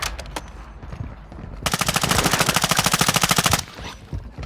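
Video game gunfire: a rapid machine-gun burst of about two seconds, evenly spaced loud shots, framed by quieter scattered sounds before and after.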